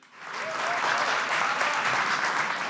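Audience applause fills a drinks industry event, a steady wash of clapping that swells quickly and holds at full strength for a few seconds, loud and close with no talking over it.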